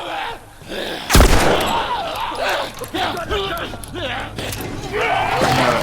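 Gunfire rings out in The Last of Us, set in a realistic-mode game session. One sharp, loud shot is followed by game sounds, and a person speaks throughout over it.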